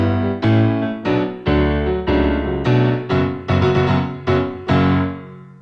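Solo piano plays a show tune's opening fanfare as a series of loud, struck chords, roughly one every half second, each decaying before the next, with no voices.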